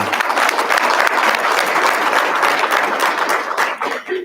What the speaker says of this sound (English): let's all give a round of applause for them